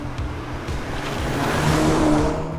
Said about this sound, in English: The active drive modes also allow you to free up the engine's acoustics.